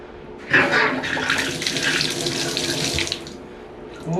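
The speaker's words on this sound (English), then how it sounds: "Now we can go turn the water on." Water gushes from a repaired American Standard bathtub faucet, starting abruptly and pouring in a loud, steady close rush for a few seconds before being cut off, then a faint trickle.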